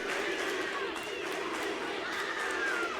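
A wrestling crowd at a Wrestling Revolver title match roars steadily throughout, a dense, loud wall of cheering and shouting that swells slightly near the end.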